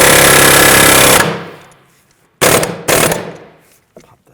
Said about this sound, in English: I'm just going to use an air hammer. Just give it a little tap.